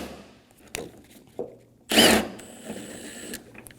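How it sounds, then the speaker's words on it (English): Power tool loosening 10mm headlight bolts on a 2008-2015 Scion xB: short ratcheting clicks, then a loud whirring burst of the driver near the mic, followed by fainter mechanical rattles. "Remove all 3 10mm bolts for the headlight."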